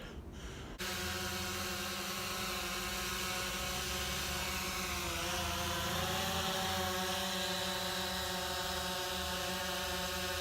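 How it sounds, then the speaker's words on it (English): Loud, steady camera drone buzz hovering overhead, a dense whine of layered propeller tones that starts abruptly and holds continuously, with a slight pitch dip midway. "So, yes, the drone is loud, and it has been the bane of my existence for these videos."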